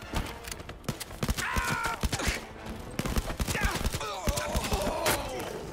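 Rapid gunfire bursts in the virtual-reality shooter Blood & Truth, sharp repeated shots cracking close over a busy, cluttered game mix with faint voices underneath.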